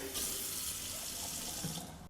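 A sink tap in a house runs in a steady, close stream of water splashing into the basin, with no talking.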